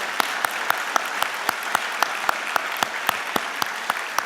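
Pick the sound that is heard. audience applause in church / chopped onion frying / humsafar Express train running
audience applause in church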